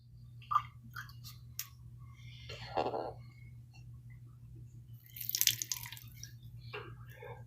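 Water dripping from a soaked shaving brush, a few sparse, close drips and splats scattered over a quiet background with a low steady hum.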